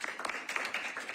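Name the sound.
applause for meeting presenters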